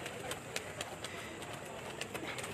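Pigeons make soft cooing calls among a flock, heard faintly from a rooftop loft amid rustling, fluttering and scattered brief clicks.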